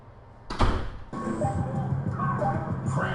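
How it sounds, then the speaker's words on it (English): A door shuts in a home, a single sharp thud followed by a loud, steady stretch of background sound that carries on after it. "Nathan, close the door."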